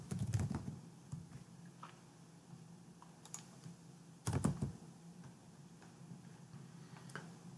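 Keys clatter on a computer keyboard as a group name is typed in all caps, two short bursts of quick taps separated by sparse single clicks, quiet and close.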